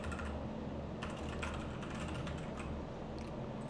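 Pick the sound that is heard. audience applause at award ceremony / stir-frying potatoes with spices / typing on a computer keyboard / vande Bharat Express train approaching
typing on a computer keyboard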